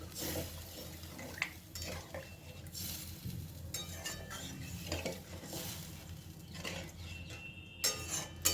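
A spoon scrapes and clinks against a pot while stirring an egg and potato curry. The metallic strokes are close and irregular, with soft sizzling underneath and a few sharper clanks near the end.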